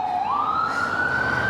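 An ambulance siren passes on a city street, one loud wailing tone that sweeps upward and then holds steady and strong over constant traffic rumble, with no talking.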